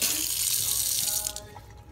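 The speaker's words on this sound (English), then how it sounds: "Should we put the water on?" Water from a tap runs steadily into a sink as a broad continuous rush, fairly close and fading slightly toward the end, with no talk over it.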